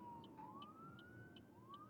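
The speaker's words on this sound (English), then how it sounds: "We got an ambulance." An ambulance siren wails at a distance, rising and falling in slow sweeps with a repeating higher chirp over a low traffic rumble.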